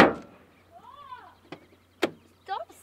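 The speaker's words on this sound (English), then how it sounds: "Slamming the door like that, you nut job." A car door slams outdoors in the Wyoming countryside, two sharp separate thuds about half a second apart, with a faint whine and a brief trailing squeak between quiet moments.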